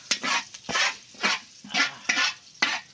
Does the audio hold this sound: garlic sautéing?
yes